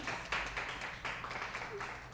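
A lecture audience claps in a brief, fairly faint burst of applause, with scattered hand claps fading slightly over a couple of seconds.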